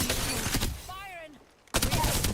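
Burst of gunfire in an OSRS (Old School RuneScape) game, loud rapid shots at the start and again after a brief quiet gap, with a voice talking over the action.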